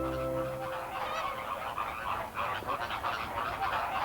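A dense chorus of honking flamingo calls, many birds overlapping continuously at moderate volume from a flock nearby, with a low hum at the start.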